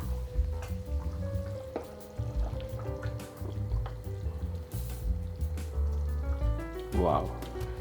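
Goan red beef curry cooks in a pot over a medium-high flame, a soft bubbling and sizzle running under steady talk, with a stir near the end.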